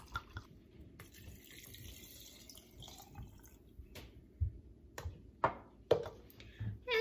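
Vodka poured into a jar holding pear and cranberry liqueur ingredients, a faint steady trickle of liquid followed by a few distinct drips and clinks close by.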